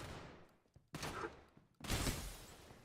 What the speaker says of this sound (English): Oh, it's a shotgun.